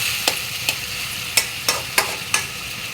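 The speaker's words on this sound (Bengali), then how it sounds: "এই শুটকিটা ভালো করে কষাই নিতেই পারবে।" Dried fish stir-fried in a pan gives a soft continuous sizzle, broken by six or so sharp scraping strokes of a spatula spaced roughly half a second apart, close by.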